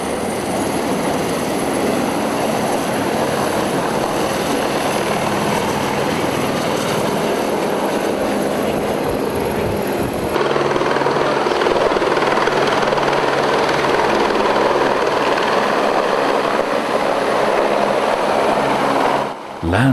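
A helicopter's loud, steady rotor and engine roar heard from inside the cabin, continuous throughout and shifting slightly in tone partway.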